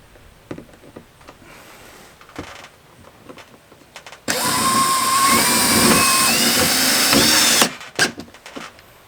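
A power drill drives screws to mount a home security camera. One loud, continuous whirring run lasts about three seconds, close up, with quiet handling sounds before and after.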